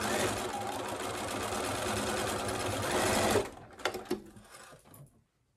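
A sewing machine runs a straight stitch on leggings, a fast steady mechanical whirr for about three seconds before stopping, followed by a few short clicks and handling noises.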